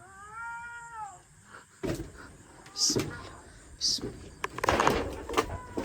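A cat meows once inside an empty room, a drawn-out wavering cry up close, followed by a few knocks and bumps and some rustling.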